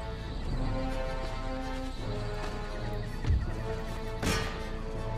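Cavalry horses neighing during an Empire: Total War battle, a few whinnies over a dense din of hooves and fighting, with sharp impacts near the middle and end.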